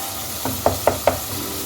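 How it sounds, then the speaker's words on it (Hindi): Masala fries with dried red chillies in hot oil, a steady sizzle broken by three evenly spaced scrapes of a stirring spoon. "जब मसाला भून रहे हों तो इसमें 2 लाल वाली सूखी हुई मिर्च वो शामिल कर दें"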